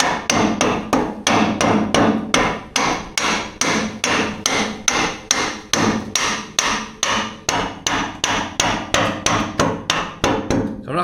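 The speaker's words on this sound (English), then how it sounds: "Just going to use our rubber mallet here." A rubber mallet knocks a bearing into place on an NC Link & Sweep 600, landing about thirty steady, evenly spaced blows up close, each one loud and dull with a quick decay, and no voices.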